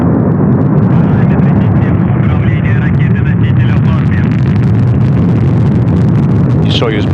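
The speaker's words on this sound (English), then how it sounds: "Liftoff of the Progress 92 cargo craft bound for the International Space Station." Soyuz rocket lifting off with the Progress 92 cargo craft bound for the International Space Station, a continuous loud deep roar filling the whole stretch, with a commentator's voice over it.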